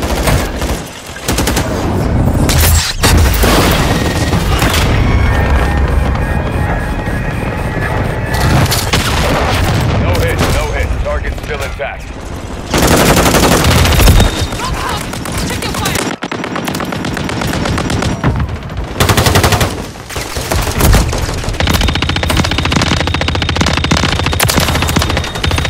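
A deployed remote turret in Call of Duty fires long, loud bursts of automatic gunfire. Heavy booms and explosions break in throughout, with a few short pauses between the volleys.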